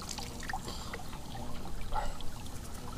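Shallow forest stream trickling and burbling steadily, a soft continuous watery wash with small splashy accents, no voices.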